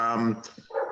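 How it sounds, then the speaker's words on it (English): Two puppies at home make a brief yelping, whining bark, close and short, mixed with a voice. "If you hear puppies barking, I have two puppies."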